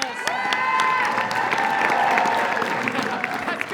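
An audience claps and cheers at a teen awards ceremony, a dense sustained wash of applause with shouts and whoops mixed in, moderately loud and continuous throughout.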